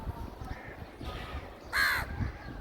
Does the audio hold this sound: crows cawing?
yes